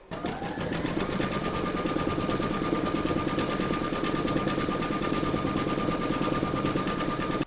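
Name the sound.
embroidery sewing machine quilting stitching round a coaster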